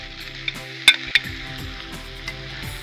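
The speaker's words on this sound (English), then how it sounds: "Stir it in gently." Pasta being stirred gently into a prawn pulav frying in a pan, a soft steady sizzle with a few sharp clinks of the spoon against the pan near the middle.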